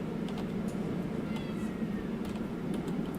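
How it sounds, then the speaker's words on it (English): Kittens meowing for food, faint short mews scattered over a steady background hum, several quick cries repeating at irregular intervals. "my kittens are demanding food"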